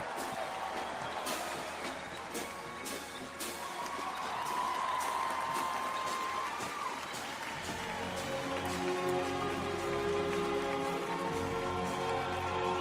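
Crowd applause and cheering for the 82nd Airborne Ceremonial Band at an outdoor U.S. Army 250th birthday parade, a steady rain-like wash of clapping that swells and continues throughout, with band instruments faintly rising beneath it later on.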